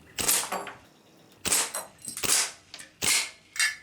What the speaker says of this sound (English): The Rattler really thumps targets in semi-automatic.